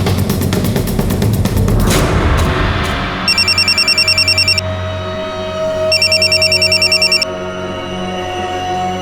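A phone rings twice in short bursts of electronic trills over dramatic background music, loud and near.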